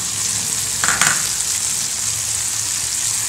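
Chopped onion, tomato and ground spices such as cumin and coriander sizzle steadily in a pan while cooking a pepper-and-ginger curry, with a brief stirring scrape partway through.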